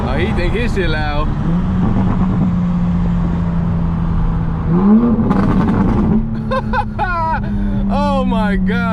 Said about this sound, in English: I don't think the mic is gonna pick up how just the bass, like how bassy this exhaust is